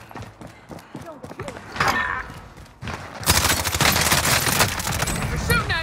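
Rapid bursts of gunfire in the Call of Duty Warzone battle royale, set in Verdansk, with sharp repeated shots that swell into a dense, loud volley in the second half, alongside spoken voices.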